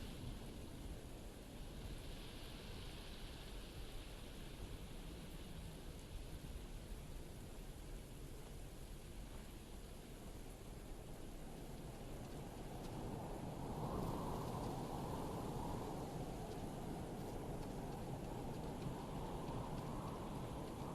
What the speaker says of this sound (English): I don't think I've ever seen a storm come on before.